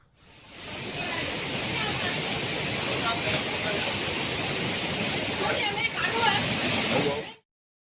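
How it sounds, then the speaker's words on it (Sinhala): Floodwater surging through in a sudden torrent, a loud, steady, broadband roar of rushing water that holds nearly unchanged for about seven seconds before cutting off. "පාර වතුර එන හැටි මේ වීඩියෝ බලන්න."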